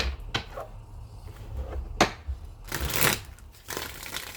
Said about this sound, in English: I'm gonna shuffle this, but I wasn't even gonna grab this deck first.